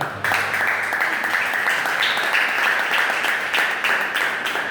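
A church congregation claps together in the sanctuary during a Spanish-language sermon, a dense, steady patter of many hands that carries evenly for several seconds at moderate volume.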